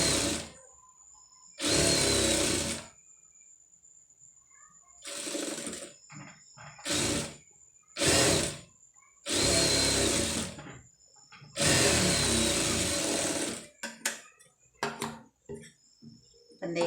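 A sewing machine stitching a neck design on a garment runs in several short bursts of varying length, loud and close, with quiet pauses and small handling clicks between them.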